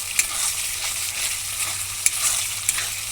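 A spice paste mixed with a little yogurt sizzles in a pan for a prawn malai curry, its steady frying hiss broken by a few soft stirring clicks and scrapes up close, with no voices.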